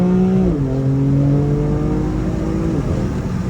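A BMW M4 Competition engine revs hard and loud up close, its pitch dropping as it downshifts, with a steady rumbling exhaust and popping throughout.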